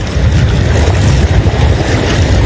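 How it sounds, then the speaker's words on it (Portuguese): A strong south wind roars over a boat crossing a lagoon, giving a constant, loud, dense rush of wind and water noise with no voices. "Então, esse é o vento sul mesmo, né?"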